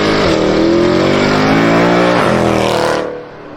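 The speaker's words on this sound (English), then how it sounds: "Mercedes knows how to make an exhaust note." A Mercedes-AMG exhaust note revs hard and loud, its rising harmonics climbing, dipping briefly and climbing again before dropping away at the end.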